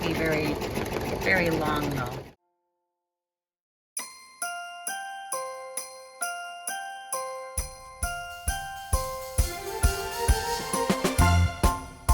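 A voice speaks, then after a silent gap an embroidery machine in a hoop runs a satin stitch for a gift card holder, giving a steady, rhythmic string of tinkling, rattling pulses that quicken and thicken toward the end.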